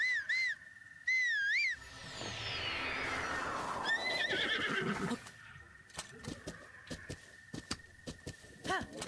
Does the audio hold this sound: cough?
no